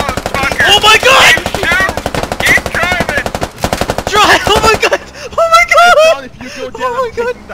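Rapid, loud machine-gun fire comes from a vehicle's gunner seat in a video game, in long rattling bursts with brief gaps. Excited shouting carries over and between the bursts.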